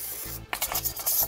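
A brush scrubs quickly inside a greasy car brake drum during a rear drum brake job, giving short rhythmic rasping strokes close by over a low steady background hum.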